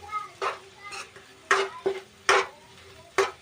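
Egg bhurji being stirred in a pan over a gas flame at medium heat: several sharp spoon scrapes and knocks against the metal in an uneven rhythm, close up over a faint sizzle, with no talking.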